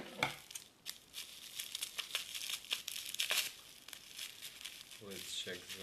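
Product packaging being unboxed gives close crinkling and tearing sounds in irregular bursts, with a voice briefly speaking near the end.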